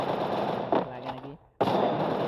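Automatic gunfire in the Free Fire mobile battle royale game, dense rapid shots filling the clip, broken by a brief near-silent gap before the firing resumes loudly, with a voice briefly talking over part of it.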